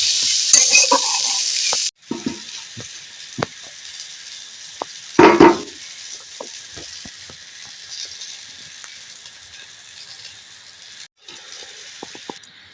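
Drumstick leaves frying in hot oil and being stirred, giving a steady crackling sizzle broken by scraping strokes and one loud clattering stir in the middle, with no talk.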